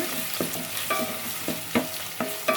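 Onions and green chillies frying in a pan for tomato rice, a close, soft sizzle broken by regular sharp scrapes of a spoon stirring, about six strokes in a few seconds.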